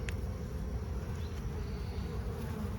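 A dense, steady buzz of many honeybees fills a hot-day hive inspection, loud and close throughout with no talking.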